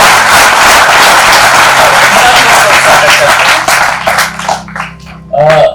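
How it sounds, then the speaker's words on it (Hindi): A seminar audience bursts into loud, dense applause that roars steadily, then breaks up into scattered claps and a voice near the end. "ये तो जोरदार ताली बजनी चाहिए।"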